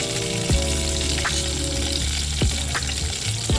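Panch phoron five-spice seeds dropped into hot oil give a loud, dense crackling sizzle, close and continuous, with a few sharp bursts as the seeds pop.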